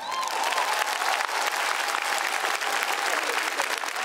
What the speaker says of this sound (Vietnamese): Một tràng vỗ tay dành cho nam danh ca Quang Dũng.